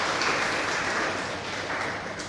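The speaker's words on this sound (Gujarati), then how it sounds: "તાળીઓથી પહેલાં તો એમને વધાવી દઈએ." An audience breaks into sustained applause to welcome a speaker at a literary talk event, a dense continuous wash of many hands clapping, fairly loud and steady throughout.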